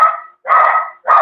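Dogs barking in three loud, close bursts separated by short pauses, with no other sound between them.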